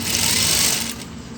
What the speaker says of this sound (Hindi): इस तरह से ये कपड़े को आप इसके ऊपर ही ढक के सिलाई मार दीजिए